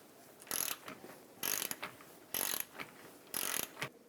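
A hand ratchet cranks on the lower ball joint nut of a 2008-2012 Honda Accord, clicking in four short bursts of rapid pawl ticks, close and clear, with pauses between strokes while the stud spins.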